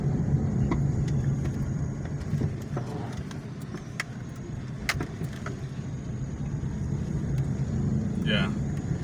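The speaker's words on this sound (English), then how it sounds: "Very fast acceleration. You can watch that. You can see that. Very smooth and powerful acceleration with regen braking." A hand-built 2006 Chevrolet Matiz converted to fully electric drive with regenerative braking accelerates with a smooth, even road and drivetrain hum, while a voice talks over it inside the cabin.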